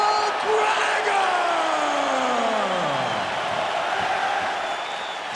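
A capacity crowd at a UFC welterweight title fight roars steadily with cheers, whoops and applause, a dense, loud wall of arena noise that holds from start to finish, with a falling tone sweeping through it.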